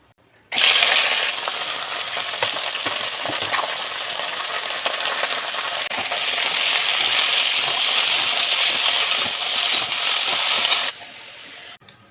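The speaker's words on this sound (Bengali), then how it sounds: "দুটো শুকনো লঙ্কা ফোড়ন দিয়ে" Two dry red chillies tempering in hot oil in a kadai, a loud sudden crackling sizzle that starts abruptly, holds steady and close for about ten seconds, then drops away.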